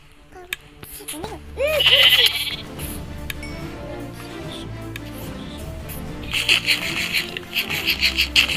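Sheep in the video game Minecraft bleat several times in short wavering calls, clear and close, while people talk over the game sounds.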